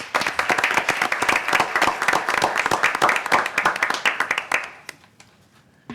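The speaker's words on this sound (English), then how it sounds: "Let's give Helen and Cynthia a round of applause, please." A board meeting audience gives Helen and Cynthia a round of applause: brisk, fairly close clapping from a modest group for about five seconds, thinning to a few last claps before fading out.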